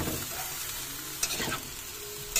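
Lumpia fry in a pan with a steady close sizzle, broken by a few sharper scraping clinks as they are turned, and no voices.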